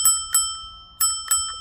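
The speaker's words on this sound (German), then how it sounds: "eine schöne Klingel, die ist schön integriert." The integrated bell on a Ninebot G30LD e-scooter rings twice, each time as a quick pair of bright metallic dings that ring out close and clear against near silence.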